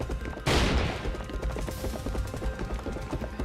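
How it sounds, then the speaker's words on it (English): A single sharp gunshot rings out from an old building in a nighttime hot-springs setting, a sudden loud crack that decays into a lingering tail and echo. "Gunshot, it came from the old building."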